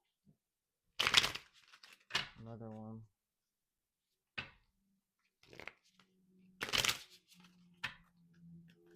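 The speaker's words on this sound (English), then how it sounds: "Let me shuffle one more time." A deck of tarot cards is shuffled in a few short, close, papery riffling bursts, separated by quiet gaps, with a person speaking briefly in between.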